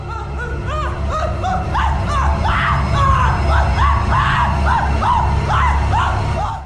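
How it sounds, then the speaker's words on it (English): The Shy Guy monster from a Lethal Company mod screams, wails and cries nonstop in loud, rising and falling yelps that overlap continuously for several seconds with no pauses. "it will cover its face with its hand and begin screaming, crying, and babbling non-stop"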